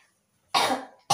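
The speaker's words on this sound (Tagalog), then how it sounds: "inuubo kaming dalawa" Two bursts of coughing from a person who is sick: a long harsh cough up close, then the start of a second one.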